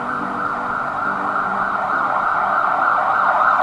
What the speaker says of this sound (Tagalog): Kaya lang guys, napakaingay. Dumaan yung ambulansya.